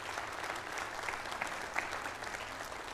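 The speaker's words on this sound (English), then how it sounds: "You can give Angel a round of applause today." Church congregation giving Angel a round of applause during a service, a dense, even wash of clapping from many hands sustained throughout.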